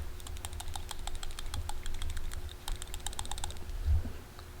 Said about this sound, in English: Now you can actually hear the thing, the little valve inside moving back and forth